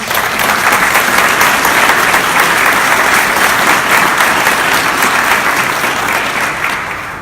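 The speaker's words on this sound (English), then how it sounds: "Can I get a round of applause for all those people?" A round of applause from the audience at the Riverfront at the Depot announcement in the Augusta Museum of History, steady sustained clapping of a sizeable crowd, loud and even from start to finish.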